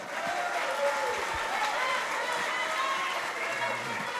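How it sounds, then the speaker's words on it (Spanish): An audience at a tribute celebration applauds in a sustained, fairly distant wash of clapping, with faint voices underneath. "Aplauso."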